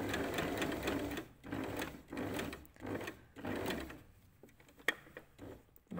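A sewing machine stitches an invisible zip in a run of close, rhythmic whirring bursts with short pauses between them, ending in quieter stops and a single sharp click.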